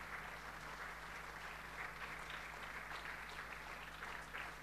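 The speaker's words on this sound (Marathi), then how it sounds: "Let us clap our hands." An audience at a Sunday church service in Pune claps together in a steady, dense patter of applause, moderately distant, with no voices.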